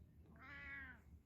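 A big, chunky house cat lets out one soft, drawn-out meow, close but quiet, alone and rising then falling over about half a second.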